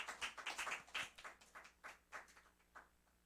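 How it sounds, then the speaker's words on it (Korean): A church congregation claps in a loose, scattered burst, with individual hand claps standing out before thinning and fading, quiet and somewhat distant. "박수 한번 쳐주세요."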